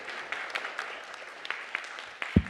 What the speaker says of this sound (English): She's really clapping hard